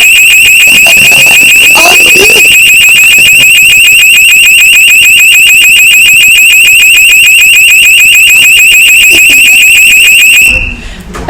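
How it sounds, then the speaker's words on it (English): A building fire alarm rings in a conference session room, a loud, steady, rapidly pulsing electronic tone that runs for about ten seconds and then cuts off abruptly. "the fire alarm is going to ring very soon"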